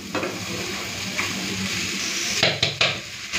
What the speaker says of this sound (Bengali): চাল কুমড়োটা কড়াইতে দিয়ে দিচ্ছি